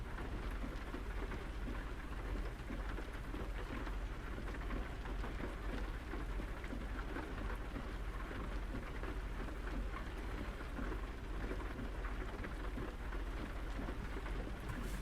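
Steady rainfall in American Truck Simulator, with thunder rumbling beneath it. A dense, even hiss of rain on surfaces carries on without a break for the whole stretch, and nobody speaks.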